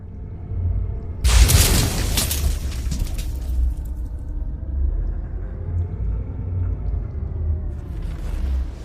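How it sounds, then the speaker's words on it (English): A single subsonic .223 rifle round, loaded with 700X powder and a 55-grain full metal jacket bullet, is fired outdoors: one sharp, loud crack that rolls into a low rumbling echo and fades over several seconds. "going out to test some Subsonic 223 rounds using 700X and 55 grain extreme bullets, full metal jacket"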